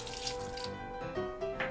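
Water poured into a Christmas Creole cake mixture, a short, close trickling splash lasting under two seconds with no talking.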